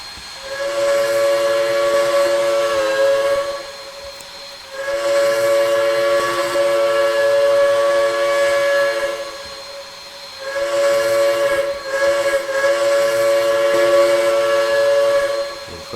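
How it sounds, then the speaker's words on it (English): A Crosby three-chime steam locomotive whistle on a Southern 630 in the Trainz video game blows three long chime blasts separated by short pauses, loud and close, with a breathy hiss under each tone. "this whistle here is a Crosby 3 chime that 7630 is currently wearing right now."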